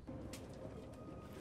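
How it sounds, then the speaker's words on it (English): A pigeon or dove coos softly within a video game set in a near-future Detroit, a few low murmuring calls over steady ambient room noise. "That would be a bird."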